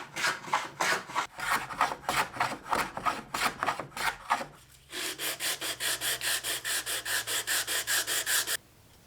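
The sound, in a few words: hand plane shaving wood flush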